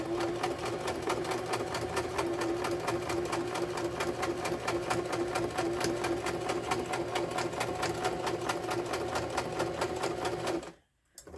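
A sewing machine stitches over pins in slippery fabric with a fast, steady mechanical chatter that holds at an even, close level for about ten seconds, then stops abruptly near the end.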